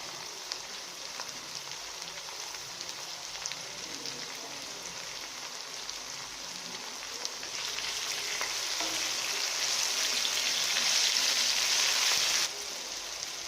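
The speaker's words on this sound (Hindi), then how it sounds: "इसे हम थोड़ी देर फ्राई करेंगे। टमाटर फ्राई हो चुके हैं।" Tomatoes with green chilies and salt fry in a pan, a soft continuous sizzling hiss like light rain that swells louder partway through, with a few faint stirring ticks, close and with no voices.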